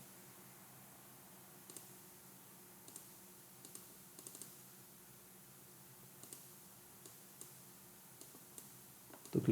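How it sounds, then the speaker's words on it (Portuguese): A computer mouse gives quick, light clicks, some paired as double clicks, scattered across a quiet, faintly hissing room with no talking. "Estou clicando muito rápido, ele está dando um duplo clique na verdade."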